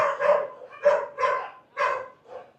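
A dog barks five times in an uneven rhythm, close and fairly loud, with short gaps between the barks.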